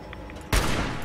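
Gunfire aimed at a Protectron robot in the video game Fallout 76: a sudden loud burst of shots after a quiet lead-in, with the din sustained to the end of the brief moment.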